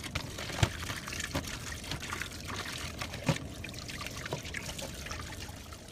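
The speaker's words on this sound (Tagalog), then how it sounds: "At dito naman sa lababo ay hinugasan na rin natin itong patola." Water running and trickling in a kitchen sink while sponge gourd (patola) is rinsed, a steady pour with a couple of soft knocks and splashes, no talking.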